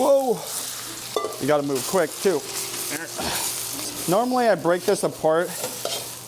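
Food laid into a smoking-hot oiled pan for a traditional Filipino breakfast sizzles and fries steadily beneath a man's excited, close talking.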